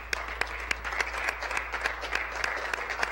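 Steady applause from an audience in a legislative gallery, a dense wash of clapping continuing throughout at moderate distance, with a few sharper claps standing out.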